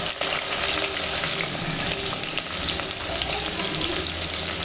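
Onions go into hot oil for biryani, giving a steady, dense sizzle that holds loud and even throughout, with occasional stirring scrapes and no talk.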